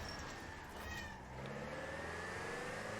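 A house cat meows over a steady wash of broadband noise and a low engine-like rumble; the calls are faint and brief, with no talking.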